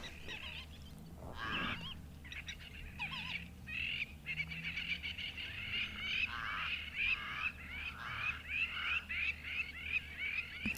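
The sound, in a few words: lapwings and crows calling in the morning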